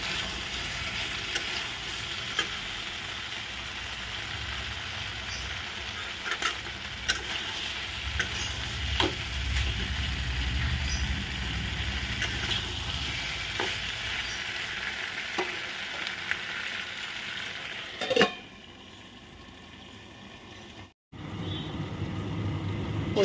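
Steady sizzle of a dish sautéing in a pan with a chilli added, scattered ticks and scrapes over a continuous frying hiss, then a sudden drop to near quiet with a brief dropout before the hiss returns.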